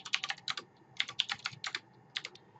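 Typing on a computer keyboard to enter upper class limits into an Excel 2016 spreadsheet on Windows: bursts of close, crisp key clicks in quick uneven runs with short pauses, no voices.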